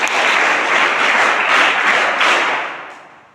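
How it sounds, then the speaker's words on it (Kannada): An audience breaks into loud, dense applause from listeners at a motivational talk, steady for a few seconds and then tapering off near the end. "ಚಪ್ಪಾಳೆ ಹೊಡಿ ಮೇಲೆ"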